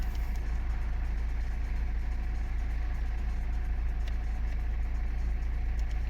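A 2014 Volvo V60 with a 2.0 D4 diesel engine and automatic gearbox idles with a low, even, continuous rumble, close and steady with no revving or voices.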